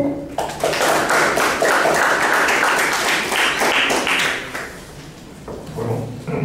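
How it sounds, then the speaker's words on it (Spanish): An audience claps at an academic colloquium, a burst of dense applause that swells and holds for several seconds, then thins and fades near the end. "Recibámoslo con fuertes palmas, por favor."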